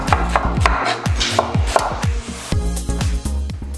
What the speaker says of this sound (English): Next, one finely diced red onion